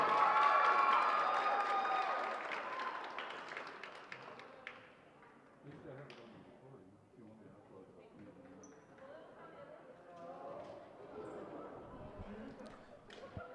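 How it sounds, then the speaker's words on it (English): Crowd applause in a gym at a high school varsity volleyball senior celebration, loud and dense at first, then fading within a few seconds into scattered claps, murmuring and chatter from the stands. "Ladies and gentlemen, a round of applause for Kalani Rosa."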